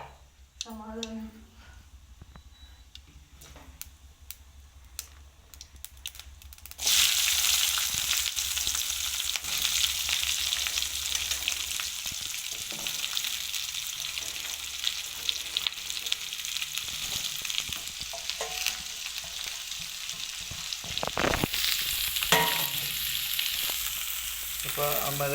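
Mustard seeds hit hot coconut oil while cooking a vegetable and rasam lunch, setting off a loud, steady crackling sizzle that starts abruptly partway through and continues to the end, after a quieter stretch with talk.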